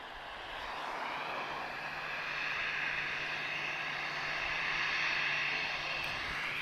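An Airbus A321neo long-range airliner arriving at Lisbon Airport makes a distant broadband engine roar that slowly builds and holds steady, with no voices over it.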